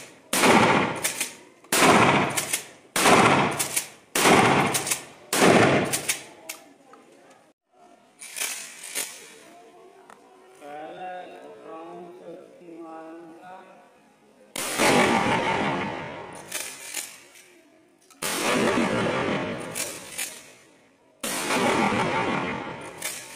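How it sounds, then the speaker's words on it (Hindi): Seven rapid shotgun blasts from a 12-bore pump-action Royal Arms shotgun fire in quick succession, each sharp and loud, followed by a pause with faint rustling and then several more heavy booming shots. "अब इसका हम रैपिड फायर करेंगे।"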